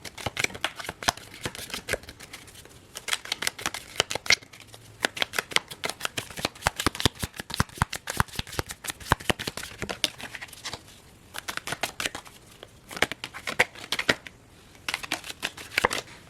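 Tarot fortune cards are shuffled close to the microphone in quick, crisp riffling bursts, repeating steadily with short pauses between runs, in a quiet room with no talking.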